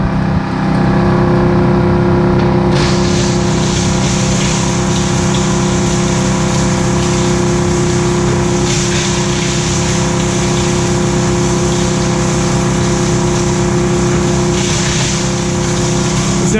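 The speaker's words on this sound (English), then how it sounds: "It's a very simple machine to turn on, just the blower, then the granulator." A Zerma GSC 300-600 granulator and its blower run loud and continuously while grinding plastic trays, with a steady mechanical roar and occasional rough grinding swells and no talk.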